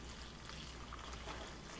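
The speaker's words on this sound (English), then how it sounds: "So I'm going to go ahead and pour this stuff right here into this." Liquid for a homemade Queen of Hungary herbal blood purifier pours into a paper filter, a faint, steady trickling hiss throughout, with no talk.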